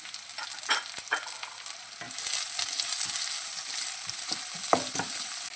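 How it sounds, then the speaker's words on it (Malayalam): Finely chopped beans and onion sauté in a pan for rava upma, a soft sizzle under occasional scrapes and stirs of a spoon, fairly quiet and close with no voices. "ഉള്ളി ഒന്ന് വഴന്ന് വരുമ്പോൾ ഇതിലേക്ക് 4 ബീൻസ് ഞാൻ കട്ട് ചെയ്തത് ഇട്ട് കൊടുക്കുന്നുണ്ട്"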